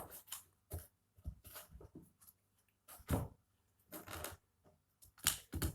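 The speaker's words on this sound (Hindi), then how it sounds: "हम पहले इसको अच्छे से शफल कर लेते हैं" Tarot deck being shuffled by hand in bursts, crisp riffling card flutters coming in short clusters with pauses between, close and fairly quiet, no talking over it.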